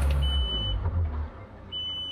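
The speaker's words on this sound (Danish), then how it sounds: "Det, der bipper nu, det er, fordi jeg har sådan en nøgleren her." Two thin, steady electronic beeps come from the kill-switch key of a Quicksilver 605 motorboat, sounding over a low idling outboard rumble, each tone held about half a second with a pause between.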